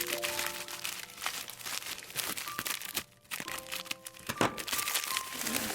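Crinkly plastic packaging around gel nail polish is torn and handled up close, with continuous crackling, crumpling and rustling broken by brief pauses and a few sharp snaps.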